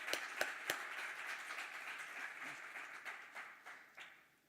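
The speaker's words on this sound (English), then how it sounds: "So let's give you a round of applause," Applause for award earners at a service awards ceremony, heard faintly with a few sharp claps at the start and then a thin patter that fades away.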